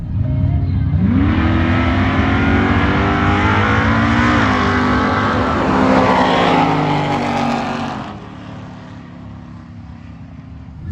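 A supercharged 2022 Ford Mustang GT with an ESS G3X blower roars through a quarter-mile pass, its engine note climbing steadily through the gears, loud and sustained before easing off near the end.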